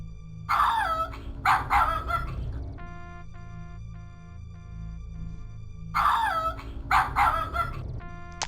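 Dog barking in the video game King's Quest 7: The Princeless Bride, two quick pairs of sharp barks separated by a stretch of quiet, steady game music, clear and close with no talk.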